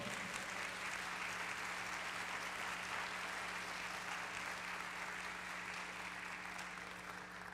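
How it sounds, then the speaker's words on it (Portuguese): A church congregation applauding: steady, dense clapping from many hands that holds evenly throughout, with a low hum underneath and no voices on top. "vamos aplaudir ao Senhor."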